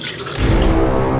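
Water gushes from a tap into a sink, starting softer and then swelling into a loud, steady close-up stream for about a second, with no voices.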